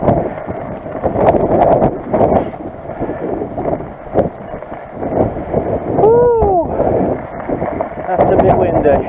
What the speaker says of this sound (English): That's a bit windy.